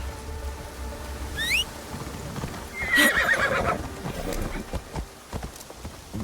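A horse gallops in the video game Assassin's Creed Shadows, with steady clip-clop hoofbeats and a couple of sharp whinnies over a busy background of game ambience.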